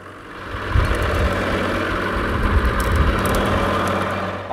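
Toyota Land Cruiser engine running steadily in third gear to drive a power take off winch as it winds cable onto the drum, a continuous low mechanical drone with slight rises and falls, close and fairly loud.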